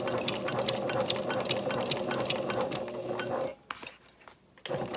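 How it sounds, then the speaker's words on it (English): A sewing machine stitches a tote bag shoulder strap in a straight quarter-inch seam, a steady close whirring chatter that stops briefly and then starts again. "I'm just going to sew with, I'm using a 1/4 inch seam allowance from the center line."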